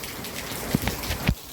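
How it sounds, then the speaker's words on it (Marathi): Rain falling, a steady hiss of drops with a few louder close splashes standing out, heard alone with no voices. "पाऊस आला बाई फायनली"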